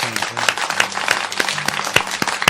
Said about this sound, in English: I want to give you a little round of applause for joining us here tonight